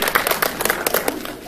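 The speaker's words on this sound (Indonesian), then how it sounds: "Yoi, ini dia, tepuk tangan dong." Brief, dense clapping from an audience at a press conference for a film launch, overlapped by someone speaking.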